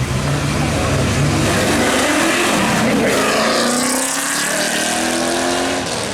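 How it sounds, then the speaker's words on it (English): A 1996 TVR Griffith 500 with a 5-litre engine accelerates hard at Brighton speed trials, a loud roaring run with rising gear-change sweeps and crowd noise, passing close by under commentary. "He's in his TVR Griffith 500."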